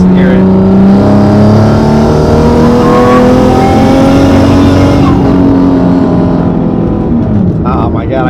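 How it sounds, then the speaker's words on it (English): Single-turbo Nissan 350Z with a loud exhaust, its engine roaring and rising in pitch under acceleration with a whistling turbo spool layered over the steady, loud drone, a voice speaking briefly near the end. "Turbo sounds insane. A little bit of boost lag right there"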